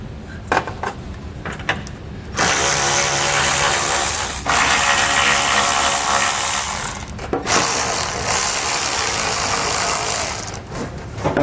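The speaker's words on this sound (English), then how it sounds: "we need to remove all the screws or nuts holding on our heat shield and then remove our heat shield" A power tool, likely an impact wrench or ratchet, runs in long whirring bursts while removing the screws and nuts holding a heat shield on a 2019 Mercedes-Benz GLC, loud and close, with short pauses between runs.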